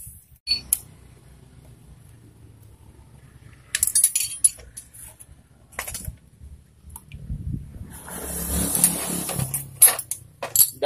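Bolts being undone on the sprocket hub of a Honda Supra motorcycle, heard as scattered metallic clinks and tool taps at close range, with a denser burst of rattling near the end and no talk.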